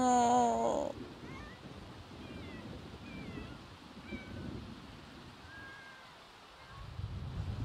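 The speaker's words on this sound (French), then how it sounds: "t'arrêtes pas de miauler" A cat in the video game The Sims 4 gives a short, clear meow at the start, then a steady wash of torrential rain and storm noise continues alone.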